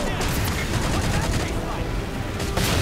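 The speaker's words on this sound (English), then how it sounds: "let me shoot the Wraith" Rapid gunfire aimed at a Wraith tank in the video game Halo 4, a dense, continuous barrage of shots and blasts filling the whole stretch at steady loudness, with a voice speaking over it.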